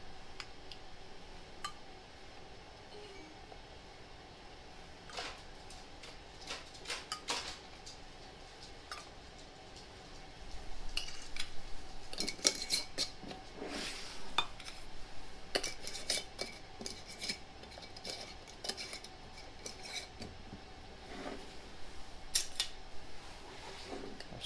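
Metal lids going onto glass jars for pressure canning chicken make scattered light clicks, taps and scrapes, close by and fairly quiet over a faint background hum, with no talk.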